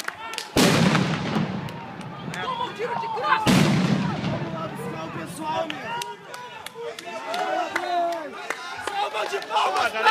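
Gunshots ring out at a street protest in Porto Alegre: two loud, sharp blasts a few seconds apart, followed by a busy crowd with shouting voices and running.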